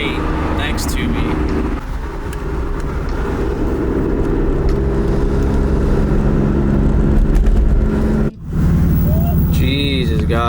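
Engine and road noise from a car driving in traffic, a steady loud drone that holds through most of the stretch and dips briefly near the end, with people talking over it.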